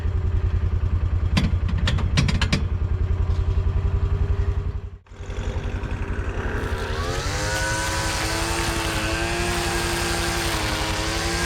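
A Mule utility vehicle's engine runs steadily in low gear, a loud continuous mechanical drone with clattering, briefly dropping out before resuming with a rising, shifting engine tone.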